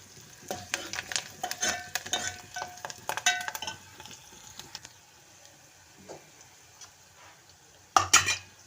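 Curry leaves and spices fry in a pan for tomato sambar. A faint sizzle runs under spatula scrapes and light metallic clinks, which come in irregular bursts, ending with a sharper clatter.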